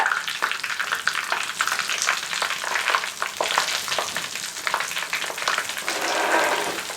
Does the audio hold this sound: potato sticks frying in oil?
yes